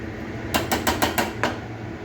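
A metal lid settles onto a pot of cooking spinach, giving five or six rapid, ringing clanks in close succession, loud and near over a steady background hiss.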